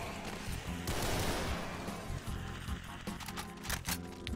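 Gunfire in Project Brutality Doom 2, a rapid burst of sharp, loud shots mixed with crashing impacts, thinning into scattered clattering blasts toward the end.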